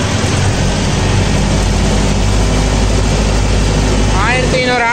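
A Mahindra tractor engine runs steadily at a set 1500 RPM while pulling a cultivator through a field, a loud continuous low droning hum with no break, and a faint whistling sound near the end.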